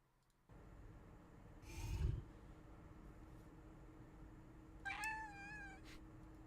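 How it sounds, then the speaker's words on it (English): A cat meows twice, once as a short close cry and later as a longer wavering meow, over a steady low background hum. "Kitty."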